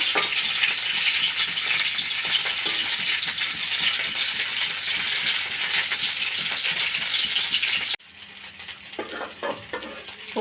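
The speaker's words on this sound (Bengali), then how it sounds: "তেলে ফুলকপি দিয়ে ফুলকপি প্রথমে বেজে নিচ্ছি" Cauliflower pieces fry in hot oil for a potato-cauliflower dum curry: a dense, loud, close sizzle with stirring rattles that drops abruptly to a quieter crackle near the end.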